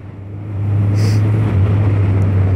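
A 600cc motorcycle accelerates as the throttle opens, its engine note rising and swelling to a loud, sustained, close-up roar after a quieter first half-second, with a brief whir near the middle and no speech.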